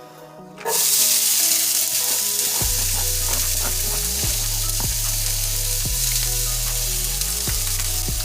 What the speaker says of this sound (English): I also have some diced up red onions that I'm going to add to the frying pan.